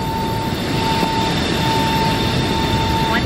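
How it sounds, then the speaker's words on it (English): A Boeing 737 jet engine roars steadily in Microsoft Flight Simulator during a climb out of the Los Angeles area. The noise is a loud, constant broadband rumble with a faint whine on top that does not let up. "Plane is super loud out here, huh? 737."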